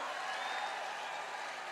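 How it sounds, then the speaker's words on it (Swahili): Church congregation clapping for the Lord at a live outdoor rally, a steady dense wash of clapping at low level, with cheering mixed in the noisy background. "Hebu pigeni Bwana makofi wa Kristo wapendwa"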